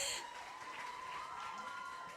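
School choir competition audience applauding for a junior high performance, a steady dense wash of clapping from a hall crowd, fairly distant and even throughout.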